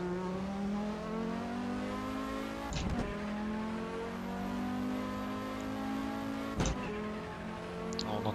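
A modded Ford Focus Mk2 engine in the Assetto Corsa racing game revs hard through rising and falling pitch sweeps, with two sharp gearshift breaks and faint tire noise, loud and steady throughout.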